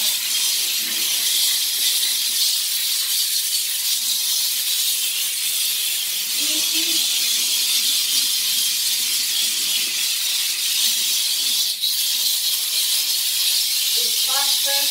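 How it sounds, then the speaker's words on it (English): A vapor steamer cleans the grout lines of a shower, giving a loud, steady hiss of steam that runs unbroken from start to finish, with faint low knocks underneath. "This is the reason why I prefer to use the vapor steamer."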